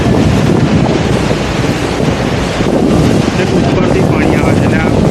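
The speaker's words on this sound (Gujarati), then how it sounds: "જબરજસ્ત પાણીનો ફ્લો આવે છે" Strong flow of a waterfall in a hilly area of Junagadh, a loud, continuous broadband rush of water mixed with wind buffeting the microphone, steady throughout with no pauses.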